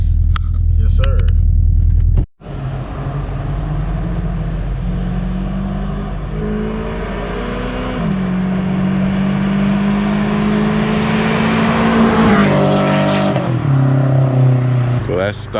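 A stock, untuned Subaru BRZ/FRS/GT86 engine drops out briefly, then revs up through a long acceleration pull, its loud, close drone climbing steadily in pitch before easing off.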